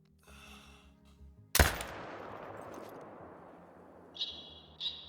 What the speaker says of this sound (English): We're gonna have to go for a shot with the AR308.